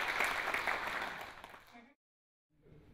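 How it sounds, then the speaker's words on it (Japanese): Participants at the 17th Tsu City social welfare convention applaud to adopt the declaration: a dense burst of clapping that fades out before two seconds, followed by a brief silence and faint low room sound. "参加者の拍手によって大会宣言が採択されました"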